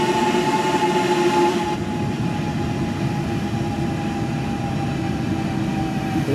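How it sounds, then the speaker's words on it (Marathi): Train running in the video game Train Sim World 3, a steady loud rumble of wheels and engine with a faint constant whine, continuous and without talk. "हो ही वाईटवाली ट्रेन होती."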